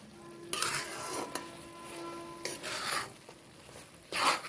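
Grated carrot for carrot halwa being stirred in a pan as its juice cooks off, heard as a close, steady scraping and rustling with bursts of louder utensil strokes against the pan, no voices.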